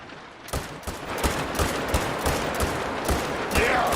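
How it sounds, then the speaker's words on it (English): Rapid semi-automatic fire from a .300 rifle in The Hunting Lodge, a steady string of sharp, loud shots in quick rhythm over a dense, noisy background. "the new semi-automatic 300 hits"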